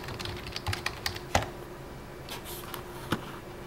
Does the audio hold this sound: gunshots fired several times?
no